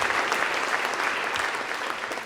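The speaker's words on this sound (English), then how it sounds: "how about a round of applause for Steve Weiss of the NFL Network?" Audience applause for Steve Weiss of NFL Network at the Pro Football Hall of Fame Awards of Excellence show, a brief burst of dense, steady clapping from a large crowd without voices.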